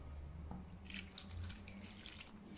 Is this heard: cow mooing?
no